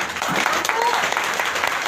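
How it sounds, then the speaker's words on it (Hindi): Enthusiastic audience clapping at a motivational talk, dense and steady with voices murmuring underneath. "मम्मी पापा के लिए एक जबरदस्त ताली होना चाहिए"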